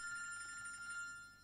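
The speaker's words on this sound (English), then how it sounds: "Oh, people are ringing in." A telephone rings faintly on a radio talk show as a listener calls in, a single short electronic ring tone trailing off.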